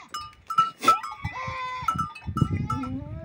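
Billy goats bleating on a goat farm in northeastern Brazil, several wavering, nasal calls at close range, some overlapping, with farm background noise and someone talking faintly between calls.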